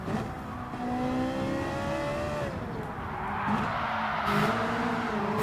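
A Gr.3 race car in Gran Turismo 7 slides through a corner: a loud, steady engine drone whose pitch sweeps down and back up, with a brief squeal of tires near the end and no talking.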